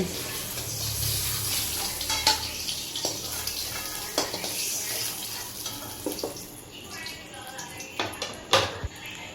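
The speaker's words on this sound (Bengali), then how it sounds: "চলুন বন্ধুরা পেঁপেটা ভেজে নিই" Papaya pieces fry in a pan with a continuous crackling sizzle, broken by scattered clinks and scrapes of stirring at close range, some faint in the background.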